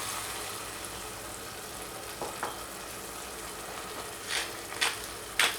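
Steady frying sizzle fills the scene, then a few sharp hissing bursts flare up near the end as water is added to the hot pan of dried eggplant.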